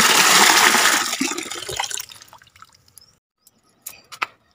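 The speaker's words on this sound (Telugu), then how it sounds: "నీళ్ళు ఇంకా తిప్పుతున్నాను" Water is stirred in a container of about 8 liters to mix a liquid fertilizer for rose plants. A loud swirling slosh dies away into quiet, followed by a few scattered drips and splashes.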